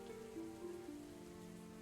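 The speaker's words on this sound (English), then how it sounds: "The rain fell hard on my face." Steady rain pours down hard in a game scene, a continuous dense hiss of drops with a soft drone of background music underneath, no voices.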